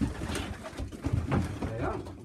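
Pigeons cooing inside a loft housing young racing birds, several soft, low throaty coos close by, mixed with rustling and a person speaking over them.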